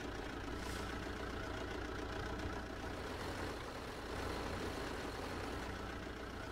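Tractors sit idling in Farming Simulator 15, a steady, even engine drone with a dense low rumble that holds at a constant level throughout with no talk.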